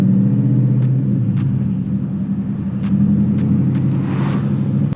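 A 2019 Ford Mustang GT V8 engine revs and rumbles loudly while driving, a steady close-up roar with throttle blips and automatic rev matching during shifts, with no talking.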